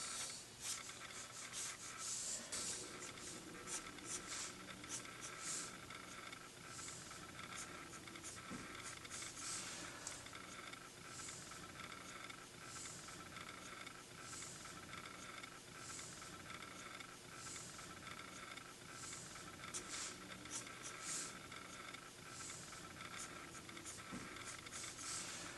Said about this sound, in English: you can kind of sketch in a color for her lips just to kind of differentiate that from her teeth